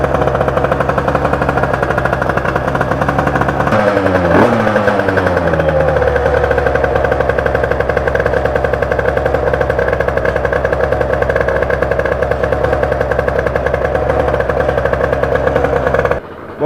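A Spitro moped with an 86cc aluminium top end warms up, its two-stroke engine idling loud and close in a rapid, buzzing rattle, with one brief rev that rises and falls before settling back to a steady idle.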